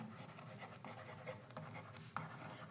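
Chalk or marker writing on a board during a Class 11 physics lesson on Kepler's laws, a steady scratchy stroke sound with a few sharper taps, moderately close, without talk.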